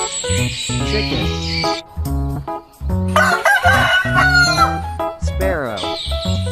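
A farmyard rooster crows loudly and close by, with several drawn-out cock-a-doodle-doo calls and some clucking mixed in, set against a steady musical background.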